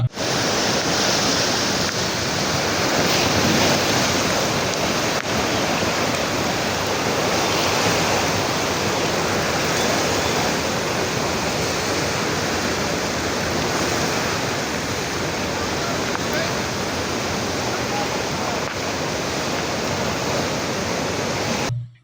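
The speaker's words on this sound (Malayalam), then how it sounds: "ജില്ലയിലെ പ്രധാന ഡാമുകളായ പീച്ചി, വാടാനി, പെരിങ്ങൽകുത്ത്, പൂമല, അസറൻകുണ്ട്, പത്താഴക്കുണ്ട് എന്നിവിടങ്ങളിൽ നിന്നും വെള്ളം പുറത്തേക്ക് ഒഴുക്കുന്നുണ്ട്" Floodwater from the Peechi dam spillway shutters during heavy rain in Thrissur makes a loud, unbroken roar of rushing water that holds steady from start to finish.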